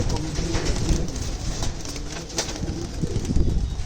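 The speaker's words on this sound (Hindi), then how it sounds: "एक कबूतरी ये है, घर की पट्टी है" Punjabi pigeons coo softly and steadily close by, with faint wing rustles and a low murmur of background voices.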